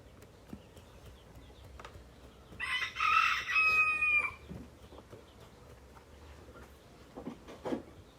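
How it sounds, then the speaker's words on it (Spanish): A rooster crows once in a clear, fairly loud call lasting a couple of seconds, with quieter clucks and faint farmyard sounds scattered around it and no talking. "Y el gallo cantó la segunda vez."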